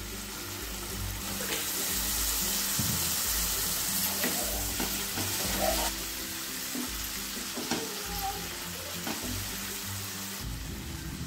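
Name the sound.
a little water added to frying masala, sizzling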